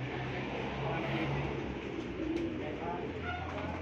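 Racing pigeons coo in low repeated murmurs close by, with a voice speaking over the steady background.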